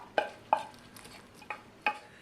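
Bare hands squish and knead a wet meatloaf mix with onion and ham in a bowl, giving five short squelching slaps spaced unevenly, close and moderately soft.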